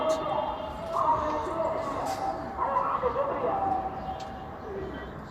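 Pigeons coo softly in a loft, with low, repeated throaty calls and a few faint chirps under a quiet background, while someone talks at times.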